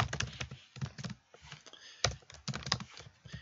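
Rapid clattering keystrokes on a computer keyboard while writing in a Microsoft Word document, coming in quick bursts separated by short pauses, close and moderately loud with no voice over them.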